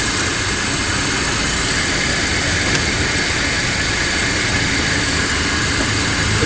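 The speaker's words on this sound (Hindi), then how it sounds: "और फिर ये स्टार्ट द कार।" Steady engine noise from an MG HS Trophy Edition SUV running after a jump-start: a continuous broadband rumble and whoosh, loud and unchanging throughout, with no separate starter crank audible and no talking.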